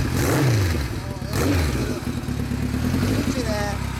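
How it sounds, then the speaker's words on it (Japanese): A 1970s Kawasaki Z1 motorcycle engine revs up and down in a few throaty swells, close and loud, while people speak briefly over it. "Z1B、 はい、エンジン音聞かせてもらえますか？"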